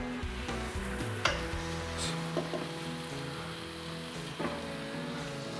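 Food sizzles steadily on a Ninja Foodi indoor grill just after being flipped, a dense crackling hiss with a few clinks of utensils against the cooking plate.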